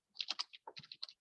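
Quick bursts of keystrokes on a computer keyboard, about nine crisp clicks in an uneven rhythm with a slightly heavier press among them, close and clear against silence.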